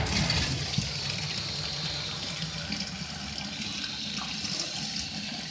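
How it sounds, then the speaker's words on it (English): A bathtub water tap is turned on during a chrome cleaning job with bleach, giving a steady, continuous rush of running water that holds fairly constant throughout. "So like if I turn on the water"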